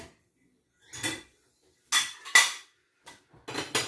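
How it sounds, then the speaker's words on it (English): Dishes and cutlery clatter as they are put away on a kitchen counter, coming in several short, sharp bursts of clinking separated by quiet pauses. "So getting these dishes put away"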